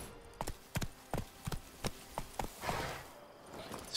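Horse hooves in The Witcher 3 video game: a regular run of distinct clip-clop strikes, about two per second, close and crisp, trailing off into softer rustling at the end.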